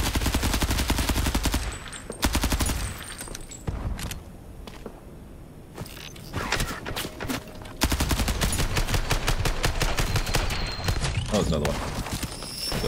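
Rapid automatic gunfire from an indie first-person shooter game, loud and continuous in long bursts with a brief quieter gap, with a voice talking over it.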